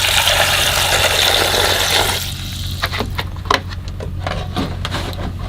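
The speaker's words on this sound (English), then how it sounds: "Add a little bit of water," Water pours steadily into a pot with a rushing splash for about two seconds, followed by clinks and light knocks of cookware.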